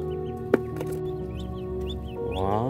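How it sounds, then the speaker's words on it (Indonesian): Soft high peeping and chirping from ducklings, repeated over a low steady hum, with one sharp tap near the start. "ada anak bebek, teman-teman."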